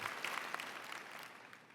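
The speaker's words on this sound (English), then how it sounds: "the undergraduates weren't clapping, but their families were" Brief, fairly distant patter of audience clapping from families at a 2016 university graduation ceremony, even and continuous.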